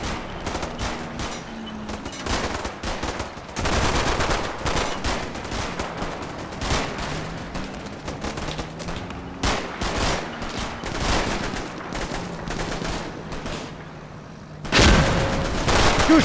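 Rapid bursts of small-arms and machine-gun fire crackle in a Normandy battle game, dense volleys with brief lulls and a sharp loud blast near the end, no voices.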